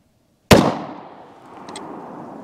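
A single 9mm Sig V-Crown 115 grain pistol round is fired into ballistic gel, a sharp, loud crack that rings out and decays slowly into the surrounding quiet.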